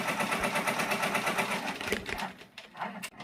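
A Brother PR 670 embroidery machine stitching, a rapid steady mechanical chatter of needle strokes, loud and close, slowing and breaking up toward the end.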